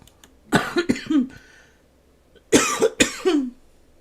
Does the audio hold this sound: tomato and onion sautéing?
no